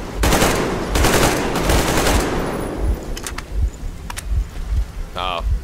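Rapid bursts of automatic gunfire from the post-apocalyptic shooter game Metro Exodus, loud and dense at first, then thinning to scattered shots with a brief mechanical whine near the end.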